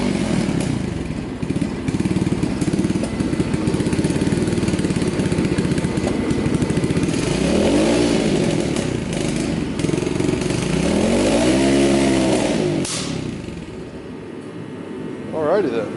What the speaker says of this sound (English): Okay, so she's running much fucking better.